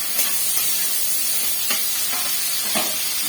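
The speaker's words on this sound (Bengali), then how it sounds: "তেজপাতা, টমেটো, পেঁয়াজ। এগুলোকে ভালো করে একটু ভেজে নেব।" Bay leaf, tomato and onion fry in oil, a continuous close hiss and sizzle broken by a few soft stirring scrapes.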